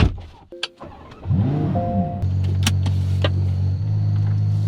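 Exhaust of a Ferrari 12Cilindri heard with the window down: after a short electric window whir, a steady low engine drone builds and holds, close and fairly loud, with no talking.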